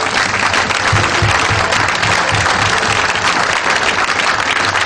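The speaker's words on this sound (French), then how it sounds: "On peut acclamer Jésus, frère." A church congregation breaks into sustained, dense applause and cheering to acclaim Jesus, loud and steady throughout with no pause.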